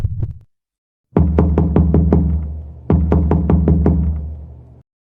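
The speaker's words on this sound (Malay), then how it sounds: "aku terdengar ada seseorang atau sesuatu yang mengetuk pintu dari luar rumah" Two bursts of sharp knocks on a house door from outside, about six raps each, loud and close, separated by a short pause, with no voices.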